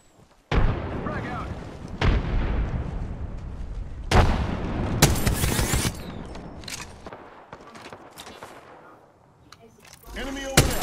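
A frag grenade goes off in Apex Legends amid a heavy firefight, with loud booming blasts and bursts of gunfire at close range, short gaps between them, and a player's voice talking over the action.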